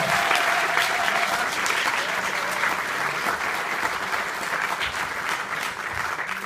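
Audience applause at an evening honouring school director Hanka Číšková, a full, continuous round of clapping from a gathered crowd, loud and steady throughout, with a faint voice at the start.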